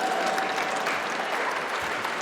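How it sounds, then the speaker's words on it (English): Applause from the audience at a state capitol press event for afterschool advocacy, a dense steady wash of many hands clapping at even loudness throughout, with no talk over it. "Let's give Catherine a round of applause"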